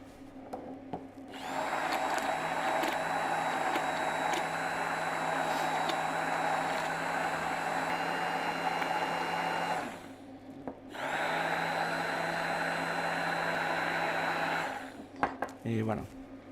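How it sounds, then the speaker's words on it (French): An immersion blender whirs steadily while mixing chocolate ganache, running for about eight seconds, pausing briefly, then running again before stopping with a few clicks. "on va finir par le mixeur plongeant"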